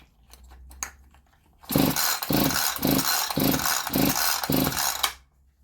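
A Husqvarna 450 chainsaw is pull-started with the choke on: a few faint clicks first, then a loud, rhythmic run of about six rapid pull strokes, each a rasping whirr, before it stops without catching.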